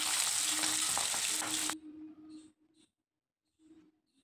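Katla fish pieces fry in oil, producing a loud, dense sizzle for under two seconds that suddenly stops, followed by a few faint scrapes and soft clinks.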